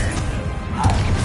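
Confringo blasting spell hitting in Hogwarts Legacy, a short crashing thwack amid busy combat noise.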